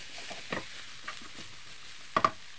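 Bitter melon being stir-fried in a pan, heard as quiet scraping and stirring strokes with soft sizzling underneath, including a sharper pair of clatters near the end.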